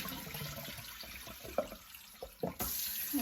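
Salted water drains off sliced cucumbers, peppers and onions, a soft running splash with a few brief clunks and knocks from the container.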